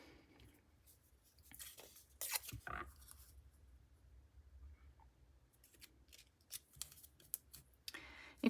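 Scissors cutting die-cut paper leaves for a scrapbook layout: scattered quiet snips and paper rustles, with a few sharper cuts clustered near the start and the end.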